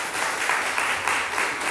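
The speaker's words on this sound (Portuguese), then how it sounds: "Pode aplaudir, gente." A church congregation applauds in a short, steady burst of many hands clapping at moderate volume.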